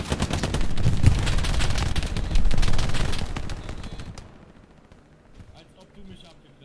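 Gunfire in the Hell Let Loose video game on Utah beach comes as a dense, loud barrage of rapid shots and blasts that fades away after a few seconds, with a voice speaking over it.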